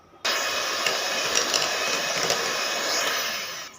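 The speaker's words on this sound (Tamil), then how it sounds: "இந்த எலக்ட்ரிக் பீட்டர் வச்சு நல்லா ரெண்டையும் மிக்ஸ் பண்ணிடலாம்." An electric beater mixing mashed banana and sugar starts abruptly and then runs as a steady, loud motor whir. Faint clicks are heard over the whir before it tapers slightly at the end.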